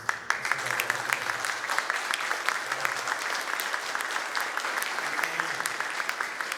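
A seminar audience on integrative animal health claps for a speaker, a continuous, fairly close round of applause with sharp individual claps standing out and faint voices beneath.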